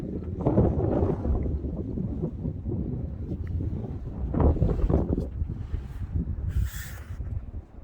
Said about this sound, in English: this wind's got to be killing the mic